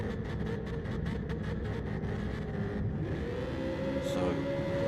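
Gran Turismo Gr3 race cars idle and rev on the grid at the Tokyo East Inner Loop before the start, a dense droning engine hum with rising revs and a whine near the end, no talk.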